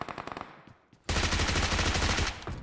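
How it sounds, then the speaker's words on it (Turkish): Gunfire in the battle-royale game PUBG Mobile: a few scattered shots, then a sudden loud, sustained burst of rapid automatic fire that keeps rattling close by to the end. "Adam orada millete sıkıyor"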